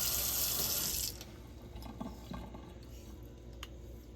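A straight razor is honed on a wet Thuringian German waterstone, a loud one-second rush of water opening before quieter, faint scraping strokes of the blade on the stone continue alone.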